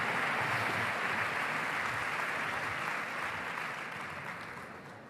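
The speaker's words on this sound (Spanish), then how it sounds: "Aplauso para él." An audience applauds a speaker taking the stage at a conference, a dense, steady wash of many hands clapping at once that holds for several seconds and then gradually fades.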